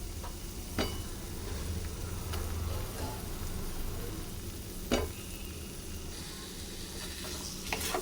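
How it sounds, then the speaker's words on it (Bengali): Potatoes sizzle and are stir-fried in a pan with mung dal and masala for a pointed gourd and potato curry. A steady frying hiss runs throughout, with occasional sharp spatula clicks. "আলুটাও দিয়ে কষিয়ে নেবো একটু"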